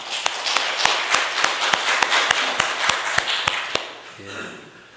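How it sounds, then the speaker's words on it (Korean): Steady applause from a crowd, many hands clapping together for several seconds before it fades out. "우리 또 격려의 박수 한번 올려드리겠습니다"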